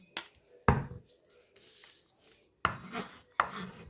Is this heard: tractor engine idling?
no